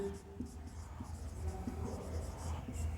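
Pen or marker writing out a midpoint formula during a class 10 coordinate geometry lesson, a soft scratchy stroking that comes in short repeated bursts, quiet and close, with no one speaking over it.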